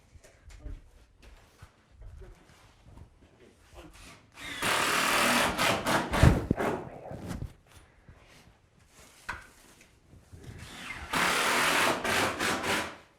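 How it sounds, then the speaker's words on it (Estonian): A circular saw cuts through straw board in bursts of loud, broadband whine, two long cuts separated by quieter handling and clatter, heard close with no talking. "Aga vaatame nüüd seda osa ka, kuidas saetakse."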